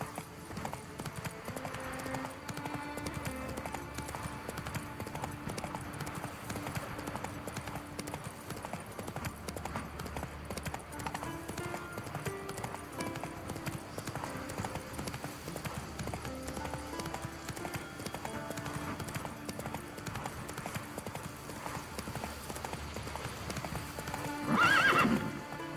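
Horse hooves clip-clopping in a steady galloping rhythm in The Witcher III video game, heard over background music throughout, with a horse whinny near the end.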